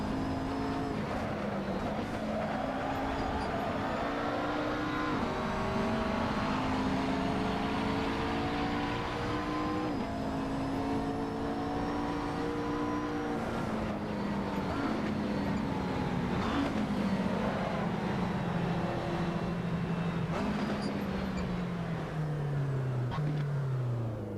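A McLaren 650S race car in the Assetto Corsa racing game, its engine droning loud and steady through a full lap, pitch climbing and dropping with each gear change and corner, no talk over it.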